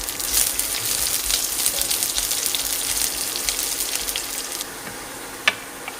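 Chopped garlic hits hot oil in a pan that already holds curry leaves and dried red chillies, giving a steady, close sizzle that fades slightly near the end, with one brief clink.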